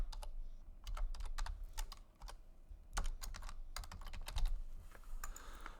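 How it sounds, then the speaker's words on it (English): Keys clack on a computer keyboard in quick, irregular bursts of sharp taps with short pauses between them, close and clear with no voices. "you type in your name"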